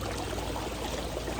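Water running steadily over the black plate of a gold concentrate sluice, a dense close rushing wash with no pauses and no voices.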